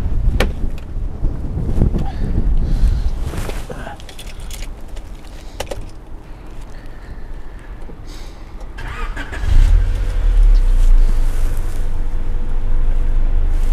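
A Honda CRX VTEC is started and left running: a few clicks and handling noises, then the engine fires at around nine seconds and settles into a steady, fairly quiet idle close by, with no talk over it.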